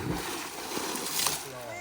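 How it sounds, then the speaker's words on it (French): Pool water splashes and sloshes close by, with people talking over it. "on a été éclaboussés"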